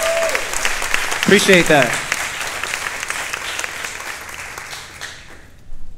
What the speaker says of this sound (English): Big round of applause for everybody in the room.